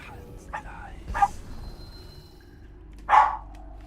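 A dog barking at a cheese-and-bacon bone, a few short, sharp barks spaced apart in a quiet indoor room, with the last bark loudest.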